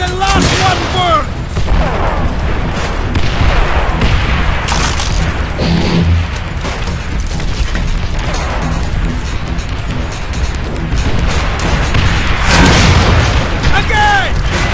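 Panzerschreck rockets fire and explode in the World War II game Call of Duty: World at War, dense booming blasts and crashes that rumble on without pause while voices shout over the din.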